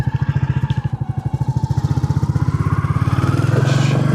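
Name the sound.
Classic 350 motorcycle riding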